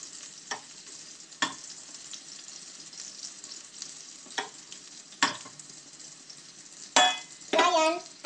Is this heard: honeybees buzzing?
no